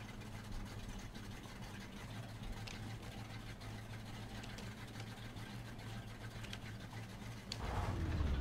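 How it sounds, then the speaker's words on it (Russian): ZIL truck engine in the video game Spintires: a faint, steady idling rumble with a fine buzzing texture that grows slightly louder and rougher in the final second, with no voices. "Но это звук зила."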